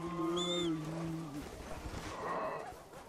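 A deep, drawn-out bear bellow in the video game Red Dead Redemption: Undead Nightmare, loud and close, with a lower roar that fades midway, then rustling and a fainter cry behind it.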